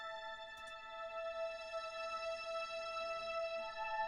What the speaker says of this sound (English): I bring in a third keyboard, which is, again, is more strings